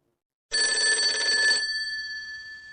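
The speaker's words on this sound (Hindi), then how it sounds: "ते शुगा को कॉल करती है और शुगा फ़ोन उठाता है।" A telephone rings once after a short silence with a bright electronic trill that cuts off and then fades away. The room is otherwise quiet.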